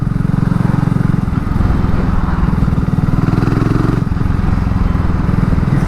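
A 2022 BSA Gold Star single-cylinder motorcycle engine pulling in third gear during town riding, a loud, close, steady thumping exhaust beat with a brief dip in load midway.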